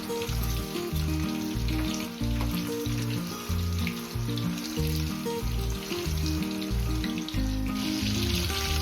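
Chicken pieces frying in oil for chilli chicken biryani, a dense continuous sizzle and bubbling close up, steady and loud throughout with no voices.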